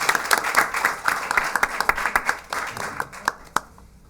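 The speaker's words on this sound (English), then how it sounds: "one more round of applause for our second champ" A short round of applause from a small crowd at a school committee meeting honoring student champions, brisk overlapping hand claps close by, thinning out and ending with a final clap.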